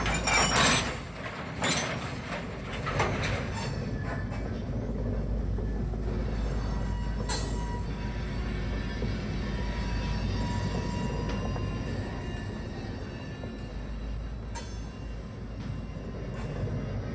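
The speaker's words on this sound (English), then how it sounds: "and Red's cut is pulled away" Freight train cars pulled away at an ethanol plant at night, a steady low rumble of rolling cars with occasional clinks and faint wheel squeal, continuous and fairly close, no talking.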